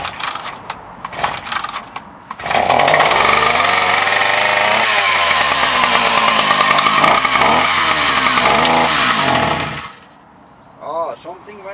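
A Husqvarna L65 chainsaw fitted with a new piston runs loud and steady for several seconds, its engine note rising and wavering with a faint ticking fault, then cuts off, preceded and followed by brief handling noises.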